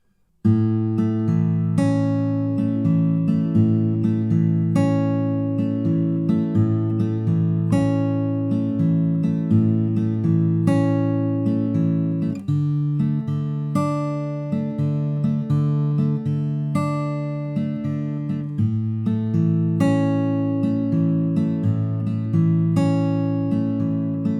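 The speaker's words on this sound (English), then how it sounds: "So the finger-picked chorus would just sound like this." Finger-picked acoustic guitar plays a steady, flowing chorus pattern of a song, notes ringing clearly and evenly for the whole stretch with no voices.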